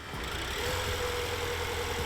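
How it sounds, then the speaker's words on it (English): A 2022 Volvo XC60 T8 Recharge plug-in hybrid's 4-cylinder gas engine runs at a steady, calm idle, a continuous close hum with a low rumble and no talk. "And once the 4-cylinder fires,"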